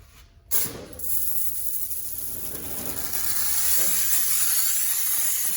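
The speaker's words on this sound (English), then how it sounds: "don't be too close to the doors with the steamer. Got a McCollum steamer." A McCollum steam cleaner steams car door panels during detailing, a close, continuous hiss that starts abruptly and grows steadily louder and fuller.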